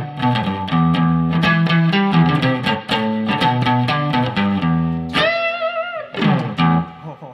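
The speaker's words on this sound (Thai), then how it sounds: "ต่อไปผมลองดีกว่าเสียงแตกดูนะครับ จัดไปพี่ ผมจะเลือกเป็นทูบสเกมเมอร์นะครับ" Electric guitar played through a NUX Amp Academy amp simulator with Tube Screamer distortion, a run of overdriven picked notes and chords with a sustained ringing bend near the end, loud and alone.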